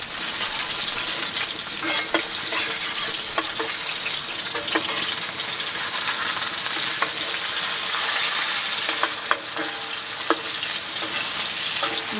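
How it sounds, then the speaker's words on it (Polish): Steady loud sizzling and crackling of lunch frying over an outdoor fire in a garden summer kitchen, with occasional light clinks and scrapes, continuous throughout with no voices. "Obiad się nam tutaj gotuje."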